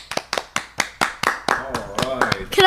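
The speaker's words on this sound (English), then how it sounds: "Give him a round of applause" A small group claps for Theo in a few separate sharp bursts, close and fairly loud, before a voice starts talking over the last of it.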